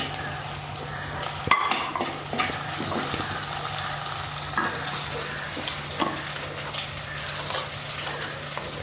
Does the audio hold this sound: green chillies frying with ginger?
yes